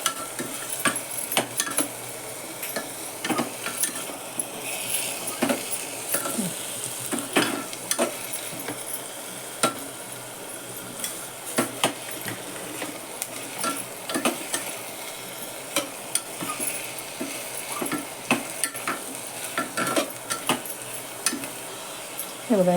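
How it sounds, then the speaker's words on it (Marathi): Khichdi ingredients are stirred and sautéed in a pan, with a steady close sizzle of frying under repeated scrapes and taps of a spoon against the metal. No one speaks. "सगळं परतलं आता चांगलं"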